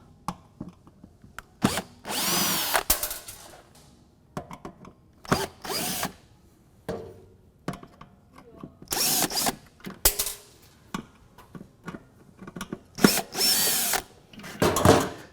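A power drill backs out screws from the fan of a Dri-Eaz LGR 2800i/3500i dehumidifier, with repeated short, loud whirring bursts and ratchety clicks between pauses and handling noises, close by.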